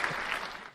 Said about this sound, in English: I hit the applause again